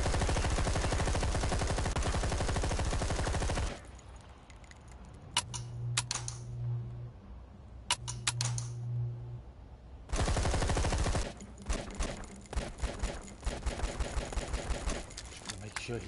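Submachine gun fire in the survival horror game Zombi, loud dense bursts of automatic shots at the start and again near the end, with a quieter dark stretch of faint tones between.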